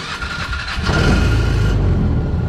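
A 2005 Polaris Ranger 500 utility vehicle, older and with a choke, cranks and catches, its engine rising into a loud, close, rough rumble that holds steady to the end.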